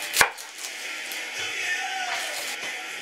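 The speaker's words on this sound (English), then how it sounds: "now get one onion, cut off the top" A knife cuts the top off an onion on a board with one sharp, close chop, followed by quieter rustling handling sounds.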